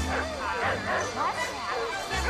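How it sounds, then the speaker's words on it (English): Several dogs barking and yipping in a movie scene where an electric car is chased through a neighborhood, with overlapping excited barks and whimpers over a busy background of other sound. "chased by a bunch of dogs."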